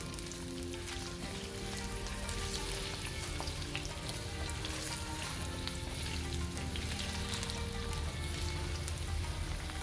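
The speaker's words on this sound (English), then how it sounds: "So first we put these onions, to fry them a bit." Onions cut into big pieces fry in a pan for chilli paneer, a dense, even sizzle that holds steady and fairly loud throughout, with no voices.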